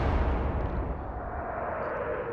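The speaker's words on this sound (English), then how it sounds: "And we need to shoot our guns." Heavy battleship guns fire in the naval warfare game Atlantic Fleet, a loud deep boom rolling into a sustained rumbling roar that slowly fades over the full length, with no voices.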